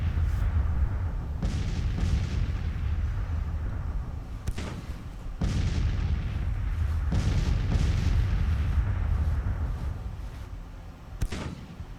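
Civil War cannon fire in Grand Tactician: The Civil War: repeated heavy booms over a constant low battlefield rumble, some close and sharp, others more distant, arriving at irregular intervals.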